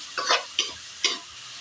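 Sliced ampalaya (bitter gourd) seasoned with salt fries in a pan while being stirred: three distinct scraping strokes over a soft continuous sizzle, close by, with no talking.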